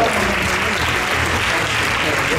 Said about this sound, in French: Et on les applaudit bien fort.